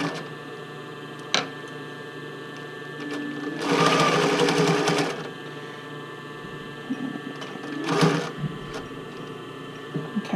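A domestic sewing machine stitches the fitting band of a bra in two short, close runs of rapid rhythmic whirring, separated by quiet pauses with faint handling clicks.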